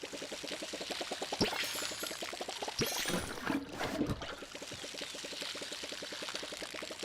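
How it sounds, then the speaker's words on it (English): Vegetables are watered in the farming game Palia, giving a steady trickling pour with a fast rhythmic pulsing that runs throughout, broken by a few brief splashy accents near the middle. "Just water my vegetables."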